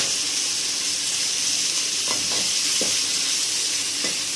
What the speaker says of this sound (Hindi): इसमें 1 टीस्पून कुटा हुआ लहसुन ऐड करेंगे और इसको भी भून लेंगे।